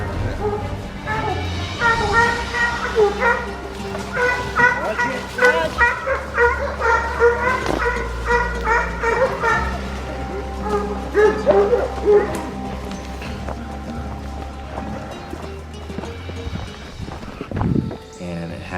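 Hunting dogs bark at a cornered wild boar during a hunt, repeated yips and barks over a dense, loud background of music and voices that largely covers them throughout.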